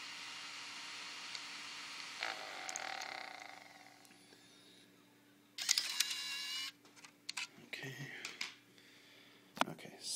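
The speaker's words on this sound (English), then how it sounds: "So let me eject the disc here." A Nintendo Wii disc drive ejects a disc, a faint whirring hiss followed by sharper mechanical clicks and scrapes, with quiet handling noises nearby.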